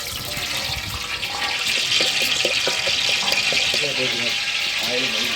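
Ghee and oil poured in a steady liquid stream into a large pot of bulk chicken biryani, a continuous splashing pour with a person talking over it.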